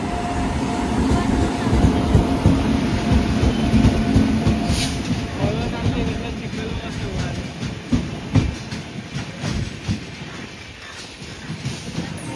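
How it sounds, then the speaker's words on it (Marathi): A train rumbles through a tunnel beside a station platform, a sustained, loud roar with rattling wheels that eases slightly toward the end, while people talk intermittently. "टनल मध्ये गाडी."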